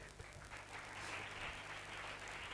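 Church congregation applauding during a sermon, a steady wash of clapping from a crowd that swells slightly and continues for a couple of seconds.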